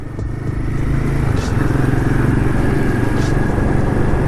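Royal Enfield 450 motorcycle engine running steadily at close range, a loud continuous low throb with a faint wind rush.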